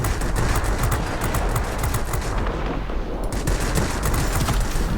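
Aircraft cannons firing in World of Warplanes from a Vampire F.1 jet, a dense, loud, continuous rattle of rapid shots over engine roar, with a brief thinning near the middle.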